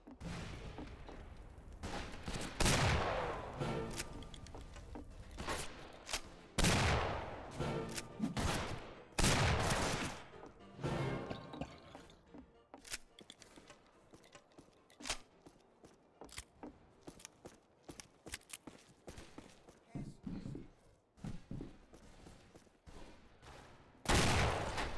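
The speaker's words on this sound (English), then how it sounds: "I go and kill this guy with the coach gun and Derringer" A coach gun and a Derringer fire in a modded video game, loud sharp blasts scattered through half a minute, some in quick bursts, mixed with clattering and footsteps and no talking.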